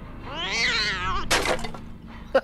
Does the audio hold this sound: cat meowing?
yes